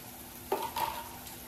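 A spoon stirs a spicy Malvani-style kalundra fish curry masala in a pot, making a brief pair of close scrapes and a faint sizzle, quiet and without talk.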